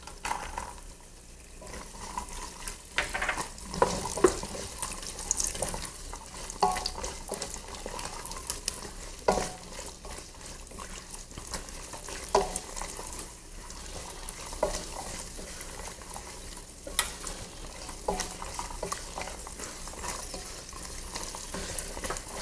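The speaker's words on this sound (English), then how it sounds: "Once the cashews are a little brown, I'm adding the raisins." Cashews and raisins frying in a pan for pumpkin halwa, a soft steady sizzle broken by intermittent scraping stirs, with some running-water noise in the background and no voices.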